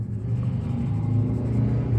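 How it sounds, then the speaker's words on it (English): Neighbors' motorcycles heard outside through an open window, a steady low engine rumble that holds at moderate loudness throughout, with no voices over it. "my neighbors are out on their motorcycles"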